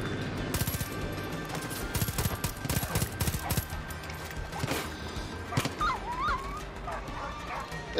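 In the video game Far Cry 5, a dog whimpers with thin, wavering cries near the end, after dense bursts of gunfire and clatter.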